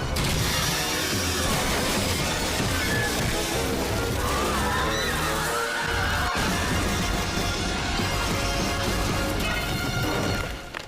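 Loud, continuous Family Guy cartoon destruction of a subway train and other vehicles, with crashes, smashes, metal clanks and ratcheting mechanical noises piling on top of each other throughout, with no pauses.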